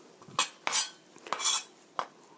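A knife slices cabbage on a cutting board in four or five crisp, separate strokes with short gaps between them, close and clear, with no talking.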